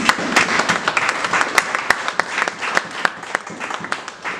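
A church congregation at a Sunday service claps and applauds for the Lord, a dense sustained wash of hands with sharper individual claps standing out, loud and close, with faint voices mixed in.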